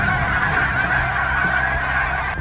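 A flock of geese honks continuously, overlapping calls close by and fairly loud, with no pauses in the clamor.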